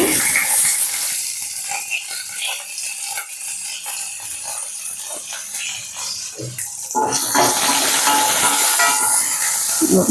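Curry leaves and onion frying in hot oil for a vadacurry give a steady crackling hiss that swells into a louder, brighter sizzle partway through, close and continuous.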